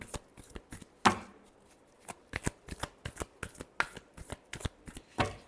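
Tarot cards are shuffled close up in a quick series of crisp riffling snaps and taps, irregular bursts repeating in a quiet room with no talk.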